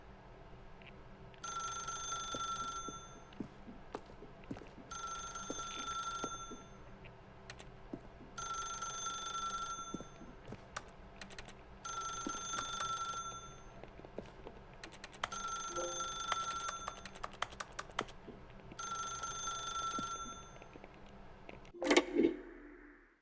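A telephone bell in the video game The Stanley Parable rings in six evenly spaced bursts, each ring a bright rattling trill at steady, moderate loudness, ending with a brief clatter.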